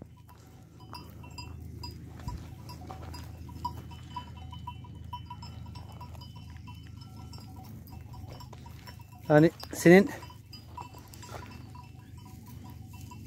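A flock of sheep with a ram gives two short, loud bleats close by, standing out over a low, steady outdoor rumble while people talk nearby.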